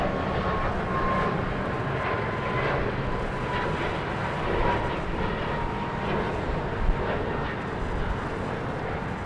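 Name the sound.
Boeing 737 Max 8 airliner passing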